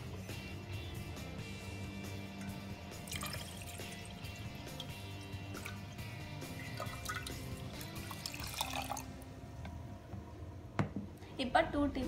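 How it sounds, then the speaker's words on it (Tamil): One litre of water pours into curd in a kitchen vessel, a steady, close splashing and gurgling trickle, with a voice talking over it. "அடுத்தது 1 லிட்டர் தண்ணி ஊற்றுங்க."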